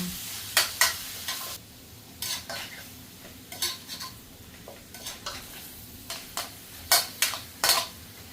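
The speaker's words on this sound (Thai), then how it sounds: "ผัดเลยนะครับผมผัดหอม" Shallots stir-fried in a pan for a basil beef stir-fry, a soft steady sizzle broken by repeated sharp scraping clinks of a utensil against the pan in an uneven rhythm.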